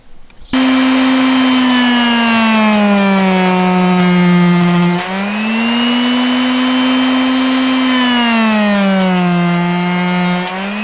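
A Skil palm sander with filtration starts abruptly and runs as a loud, close motor whine that dips and rises in pitch as pressure on it changes, with no talking.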